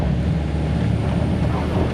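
A 2025 Hyundai Santa Cruz engine revs hard at full throttle during off-road driving, a loud, steady roar with rumbling low end and wind buffeting throughout.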